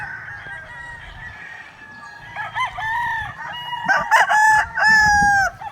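Gamefowl roosters at a gamefarm crow loudly and close, several overlapping cock-a-doodle-doo calls in quick succession with a faint low background hum.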